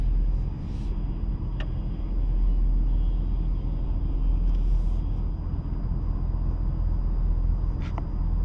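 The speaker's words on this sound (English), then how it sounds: "So let's drive forward for a second." A car driving forward, heard from inside the cabin as a steady low road rumble and engine drone, moderately loud and continuous, with a couple of faint brief clicks.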